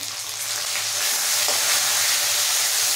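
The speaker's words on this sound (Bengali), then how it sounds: "খুব ভালো করে ভেজে নেব।" Chicken fries with ginger-garlic paste, chopped tomato and green chilli for chicken kosa, a loud, continuous close sizzle with stirring scrapes throughout and no talk.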